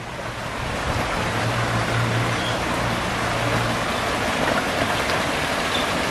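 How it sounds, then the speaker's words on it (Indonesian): Bamboo water spout pouring into a large koi pond, a continuous loud rushing splash with a steady watery hiss that fills the clip, with no one talking. "Di situ juga ada pancuran."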